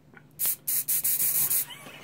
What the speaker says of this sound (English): just spray a bit, just spray around